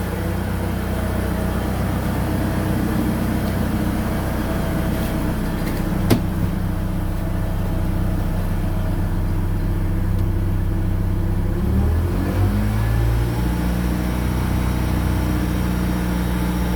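A freshly started BMW E36 with the M43 four-cylinder engine is held at a steady 1000–1500 rpm during a coolant flush, giving a continuous close, loud drone with a brief pitch shift near the end.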